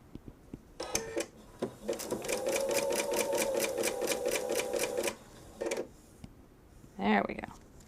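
A sewing machine stitches a jellyroll quilt in one steady, rapid run of needle strokes lasting about three seconds, with short starts before and after it and a brief voice near the end.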